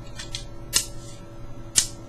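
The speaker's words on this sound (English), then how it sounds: "But you take and flip the hood up, and then to get the socket out, you kind of rotate it forward." A plastic Transformers Fall of Cybertron Bruticus figure being handled, with two sharp plastic clicks about a second apart over faint background hiss and a few softer ticks.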